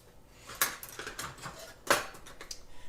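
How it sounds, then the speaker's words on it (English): A utensil whisking waffle batter with vanilla in a bowl, a few sharp clinks against the side among softer sloshing strokes, close and alone. "now I'm going to mix that together"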